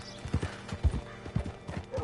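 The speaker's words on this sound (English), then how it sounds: "Hitch your horse up here." Horse hooves clip-clop in an irregular walking rhythm in the video game Red Dead Redemption 2, a handful of clear knocks over two seconds, fairly close and without talk.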